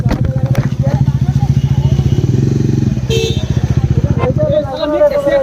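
A Yamaha R15 motorcycle runs loud and close, its rapid pulsing exhaust throb steady and then easing as it slows near a bridge, with a brief rattle and a voice speaking over it.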